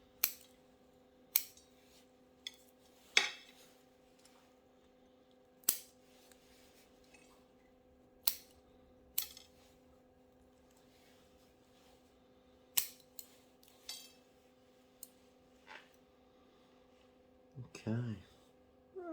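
Sharp scissors snip through the coarse roots of a young elm bonsai, a series of crisp, isolated clicks spaced a second or two apart over a quiet background, with some handling rustle near the end.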